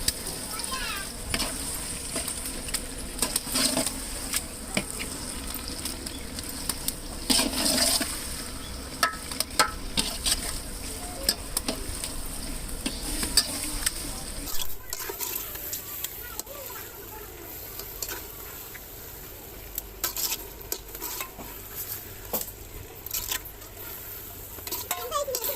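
Chicken pieces stirred in a large pot of oil and masala for a 3 kg batch of chicken biryani, a steady close sizzle and frying hiss with scraping stirs throughout, under people talking nearby.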